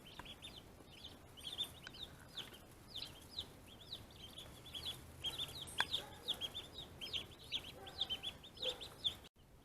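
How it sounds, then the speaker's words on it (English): Orpington chicks and guinea keets chirping together, many quick high peeps repeating in an irregular stream, close but soft, with no talk. "We picked up 6 Orpington chicks, which are the lighter color ones."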